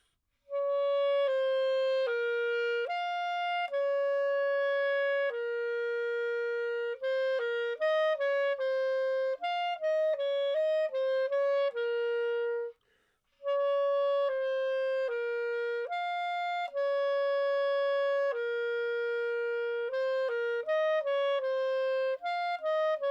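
A solo clarinet plays a steady sequence of sustained notes and short phrases, clear and close, with a brief pause midway and no talking.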